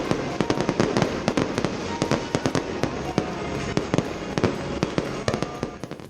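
A big fireworks display in Brussels, with a dense run of loud sharp bangs and crackles over a continuous roar of outdoor crowd noise.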